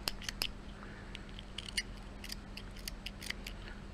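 Scissors snip through yarn for a rag-style friendship bracelet in a quick series of close, crisp cuts, small clicking snaps in irregular clusters over a low steady hum.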